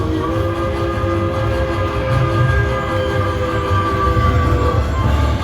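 Golden train bonus on a buffalo-themed slot machine, a loud electronic train sound with rumbling wheels and sustained horn-like tones, steady and close with no talking.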